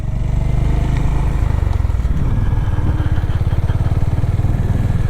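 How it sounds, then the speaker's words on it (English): A Honda GB350 single-cylinder roadster ridden slowly, its engine thumping steadily and loudly with a throbbing low pulse and little wind noise throughout. "Just going to go slow because it means you won't get much wind noise and you can hear the sound of the motor a bit better."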